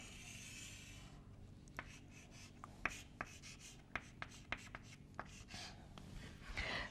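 A hand draws a diagram of a Mach wave with a pen, making close, dry scratching strokes punctuated by sharp little taps as the tip lands and lifts, roughly once or twice a second, over quiet room noise.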